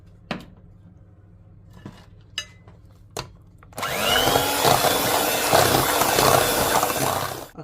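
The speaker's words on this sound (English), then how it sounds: "We'll be putting in our vanilla, 3 teaspoons, and then we just mix that in." A few light clinks of utensils against a bowl, then an electric mixer whirs steadily and loudly, blending vanilla into a Jamaican black rum cake batter at close range.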